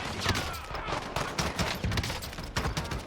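Scattered gunfire during a Plunder match in Call of Duty: Warzone, with irregular shots and short bursts in quick succession over busy in-game ambience.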